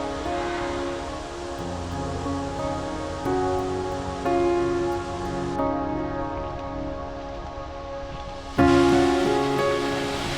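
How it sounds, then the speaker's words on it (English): A waterfall in a Japanese garden at a botanic garden in Albuquerque gives a steady, close rushing of falling water that swells and shifts in level but never pauses, with no voices. "Probably the nicest waterfall I've ever seen in a Japanese garden."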